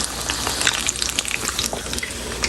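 Eggs frying in a pan with the yolks cooked through, giving a steady crackling sizzle with scattered sharp pops, close and continuous, with no voices.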